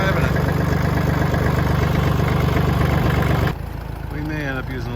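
A Massey Ferguson 1010 compact tractor engine runs with a steady, loud, close mechanical chug, then drops to a quieter idle near the end while someone talks over it.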